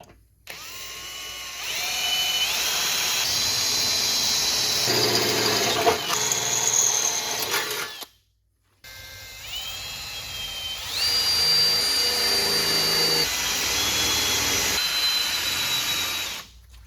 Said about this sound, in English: the last hole is getting drilled to a 7/32 because I'm just putting in a number 12 machine screw